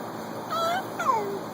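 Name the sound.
imitated cat meow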